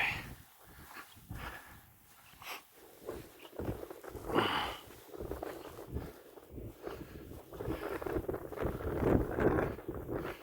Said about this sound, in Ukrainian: Да, вітришку такий пронизливий.